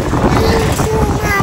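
Gusty wind buffets the microphone outdoors during light drizzle, giving a loud, rough rumble over the short stretch, with a voice faintly underneath.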